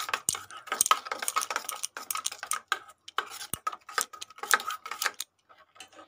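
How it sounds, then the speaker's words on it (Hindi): A spoon mixes mustard oil and masala in a bowl for steamed hilsa, giving quick irregular clinks and taps against the bowl, close and fairly quiet, ending with a few softer ticks. "तो हम अच्छे से मिला लेंगे।"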